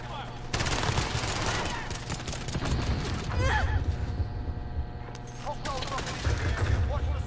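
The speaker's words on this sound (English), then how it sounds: "Yeah, this scar is wicked. No wonder I used to use this gun all the time." Dense, rapid SCAR rifle fire in a PS4 shooter, sustained bursts crackling almost continuously with short breaks, loud and close, with bits of game sound mixed in.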